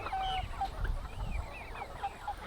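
An American Bresse rooster being kept as a meat bird makes soft, scattered clucks at low volume over a quiet barnyard background.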